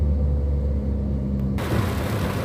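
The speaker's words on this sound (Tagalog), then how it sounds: "Ay, traffic sa ulan." Road traffic in the rain fills the clip with a steady, loud wash of hiss and low rumble, which brightens into denser rain noise partway through.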